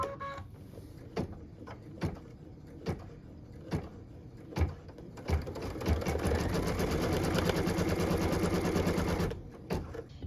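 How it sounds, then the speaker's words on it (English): A sewing machine stitches a cut line in fabric, starting with a few slow, separate stitch clicks and then speeding into a steady, continuous run before stopping near the end. "let's go ahead and get started by stitching a cut line"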